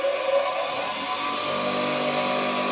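A Ferm FSM-150 bench grinder runs at speed, a steady, fairly quiet motor whir with a faint tonal whine that holds even for a few seconds, heard alone without talk.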